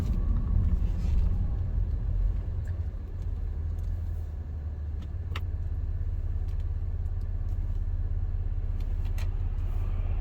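A car drives through light traffic in the small town of St. Michael, its engine and road noise forming a steady low rumble inside the cabin while a person talks over it.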